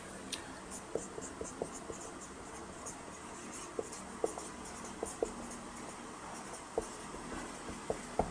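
A pen writes a sentence by hand on paper, making faint, close scratching strokes with small taps at irregular intervals throughout, under a steady low room hiss.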